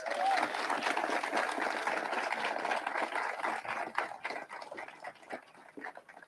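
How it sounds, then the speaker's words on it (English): Steady crowd applause at a groundbreaking ceremony for a battery plant in Elizabethtown, Kentucky, a dense wash of clapping that thins out toward the end. "Let's give them a round of applause."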